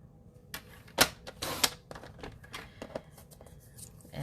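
Card stock is cut for a simple twist-fold greeting card, giving a few crisp, close snips and slicing strokes with small rustles between them, loudest near the start.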